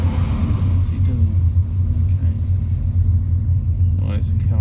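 A car drives along the road with a steady low engine rumble and road noise that fills the whole stretch at close range, heard from inside a moving vehicle with brief faint voices.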